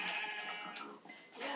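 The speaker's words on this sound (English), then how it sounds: "Sheep, I know." Sheep in the video game Minecraft let out a few short, close bleats, clear and alone with no talking.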